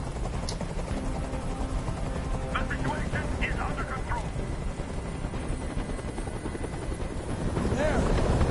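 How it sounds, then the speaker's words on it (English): A helicopter drones overhead with a steady thrumming rotor roar that swells louder near the end, while someone speaks over it. "I can't stand that noise anymore. Tell that helicopter to get out of here."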